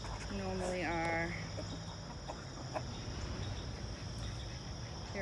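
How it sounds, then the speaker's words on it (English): Backyard chickens clucking near a coop, a brief vocal call early on, then faint fowl sounds beneath steady insect chirping, with a person speaking. "The chickens are fed. They're happy. They're mad because they were in there a lot longer than they normally are."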